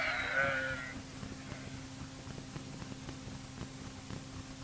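Sheep bleat on a hillside farm: one loud, close bleat at the start, then a low steady hum and background noise with no further calls.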